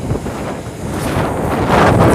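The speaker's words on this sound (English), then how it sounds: "I don't even know if you guys can hear me because it's so windy" Strong wind buffets the microphone on a rocky coast in eastern Taiwan, a loud, continuous roaring rush with gusty swells and no voices over it.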